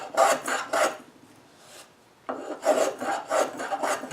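Wood being pared down to a cut line on a serpentine chest bracket foot, crisp rasping strokes in two bursts of three or four quick passes each, close and fairly quiet, with a short pause between.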